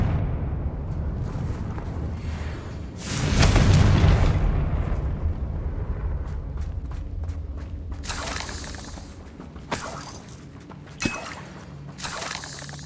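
A fire spell cast in the Hogwarts Legacy video game sets off a loud, broad blast that swells for about two seconds and then trails into rumbling, with sharp cracks and pops afterward.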